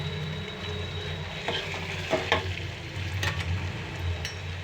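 Pieces of vanjaram fish fry in a pan, a moderate steady sizzle with a few sharper spatters and stirring scrapes, close and without talk.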